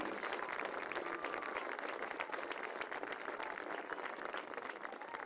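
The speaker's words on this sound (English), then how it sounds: "Fans, put another round of applause for our 2019 national champion runner-up, the William Smith Herons" Stadium crowd applauding the runner-up William Smith Herons at the 2019 NCAA Division III women's soccer championship, a dense, steady roar of clapping and cheering heard from a distance at low level for several seconds.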